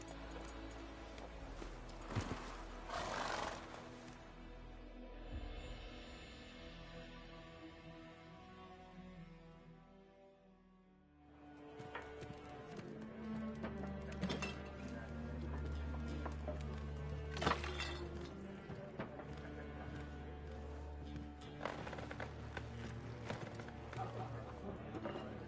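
Hooves clip-clop steadily from Geralt's horse Roach, set in the video game Witcher 3, under game music and spoken voices, with a brief quiet break before the riding sounds resume.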